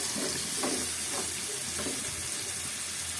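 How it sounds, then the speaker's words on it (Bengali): Steady sizzling of onions frying in a pan, with occasional stirring scrapes, at a moderate level and no speech. "এই কড়াইটার মধ্যেই বেশ কিছু পেঁয়াজ নিয়ে নিয়েছি নিয়ে এগুলো এখন একটু ভাজা ভাজা করতে হবে"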